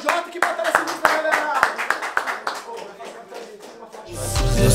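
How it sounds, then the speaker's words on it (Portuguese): Steady, rhythmic hand clapping at a rap battle, loud and close, carries for a few seconds before other sound takes over at the end. "Palmas aí pro AJ, que batalha sinistra, galera!"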